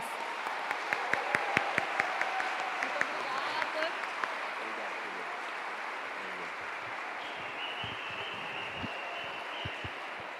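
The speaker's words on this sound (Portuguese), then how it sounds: "Vamos recebê-lo com a salva de palmas." Audience applause welcoming a speaker to an education lecture, steady clapping with a few sharp claps early on, and voices murmuring underneath as it continues.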